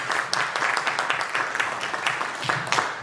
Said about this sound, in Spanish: Les pido un aplauso para Carla.